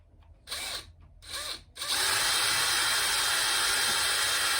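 A power drill bores a 2.5mm hole through the plastic bumper of a 2008 Land Rover Freelander 2: two short spins, then a loud, sustained high whine as the bit runs through.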